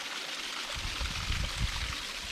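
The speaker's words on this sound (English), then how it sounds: "The water just coming out of all the cracks in the rock right there." Water trickles and splashes out of cracks in rock near an abandoned railway in Newtyle, Scotland, a steady close hiss with low gurgling bursts and no talking.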